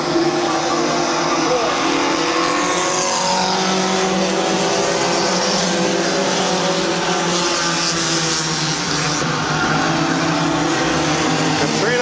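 A pack of race cars roaring continuously through a heat race at Midvale Speedway, a dense, loud engine drone with layered revving throughout, with an announcer's voice partly mixed in.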